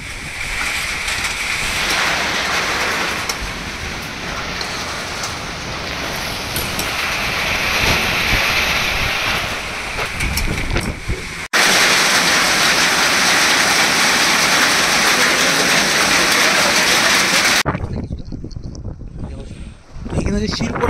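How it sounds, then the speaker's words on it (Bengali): Heavy rain with strong wind roars as a loud, dense wash close to the microphone, with wind buffeting and a person talking over it, before cutting to a quieter stretch at the end. "প্রচুর বৃষ্টি শুরু হয়েছে, প্রচুর"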